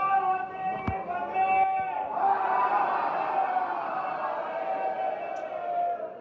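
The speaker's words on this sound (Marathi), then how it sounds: "खूप गर्दी." A dense crowd of pilgrims at Trimbakeshwar temple near Nashik murmurs and shuffles during darshan, a steady close wash of many overlapping voices that swells after a couple of seconds and holds.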